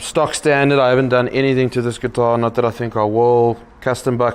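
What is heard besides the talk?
No everyday noises stand out.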